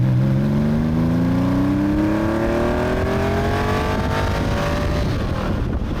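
Air-cooled Porsche 964 911 fast road build accelerating hard, its flat-six revving steadily upward with rising engine pitch, loud and close throughout with continuous road and wind roar.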